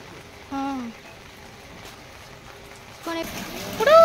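Heavy rain gives a steady, soft hiss throughout, while a voice speaks briefly over it twice.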